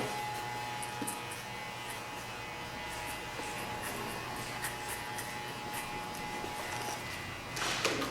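Electric hair clipper buzzing steadily while cutting a woman's hair into a low fade, a thin continuous hum held close with small tonal shifts as the blade moves, a brief rustle near the end.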